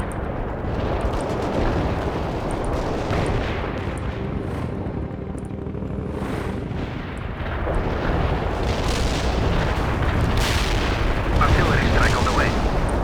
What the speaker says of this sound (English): We keep the enemy in the strike zone. Commencing the barrage.